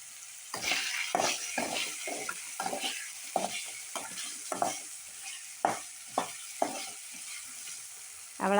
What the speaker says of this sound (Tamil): இந்த தொக்கை வச்சு சாப்பாடை கிண்டி விட போகிறேன்